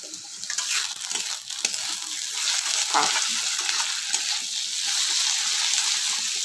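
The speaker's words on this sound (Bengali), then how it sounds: "এদিকে উচ্ছে ভাজা বসিয়ে দিয়েছি" Bitter gourd sizzling steadily in hot oil in a pan, a continuous crackling hiss with small spits and pops, close and fairly quiet.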